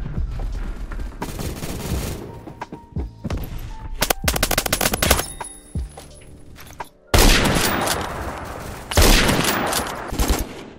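Automatic rifle and pistol fire in Roblox Phantom Forces, loud rapid bursts in several clusters separated by short pauses, close and sharp.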